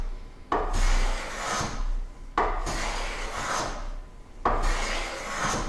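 A hand plane takes shavings from wood on a workbench in three long, rasping strokes. Each stroke is loud and close, with short pauses between them.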